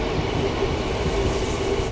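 A passenger train runs along the line past Mecheda with a steady, close rumble of wheels and carriages throughout the short stretch.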